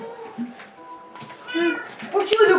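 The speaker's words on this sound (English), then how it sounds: "So there's my cat right here." A cat meows a few times in a Minecraft game, close and clear, with people talking over it.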